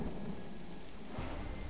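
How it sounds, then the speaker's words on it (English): Steady rain and a low thunder rumble from the Jurassic Park video game fill the short clip at an even, constant level, with a deeper surge near the end. "At least the rain's easing up."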